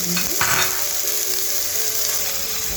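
One large red onion sweating in a frying pan gives a loud, close, continuous sizzle, with a quick clatter of stirring near the start.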